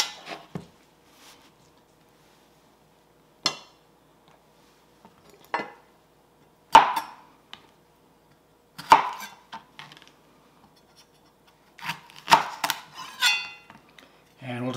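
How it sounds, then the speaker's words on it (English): Knife chopping a jalapeno pepper on a cutting board: a handful of scattered, sharp close-up knocks spread across the stretch, some in quick little clusters, with quiet gaps between them. "I'm going to cut up that jalapeno pepper"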